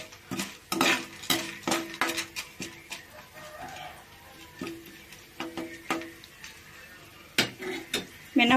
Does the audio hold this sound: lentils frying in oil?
yes